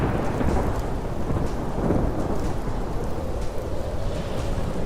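Heavy rain pours down with rumbling thunder in an animated story sound effect: a dense, continuous downpour with deep rolling booms and no voices.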